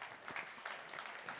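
A short burst of audience applause during a talk on state-level freedom policy, faint and distant, with dense clapping that continues steadily through the brief moment.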